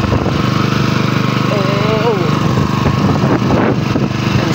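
Engine of a crop spraying machine with a hose, running steadily during a harvest, a loud continuous close-up drone with a faint voice underneath.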